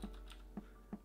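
A few sparse keystrokes on a computer keyboard, three soft separate clicks, faint and close with no talking.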